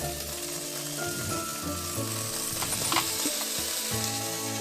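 Okra fries in a kadai with a continuous close sizzle and crackle, and a few stirring scrapes and clinks are heard over the hiss.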